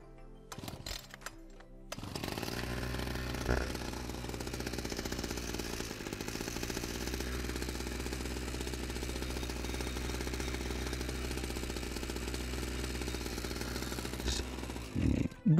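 A small petrol engine, a chainsaw, brush cutter or generator unused for about a month, fires up after an emergency starting fix and keeps running. It is a loud, steady buzzing drone that continues nearly unbroken for over ten seconds.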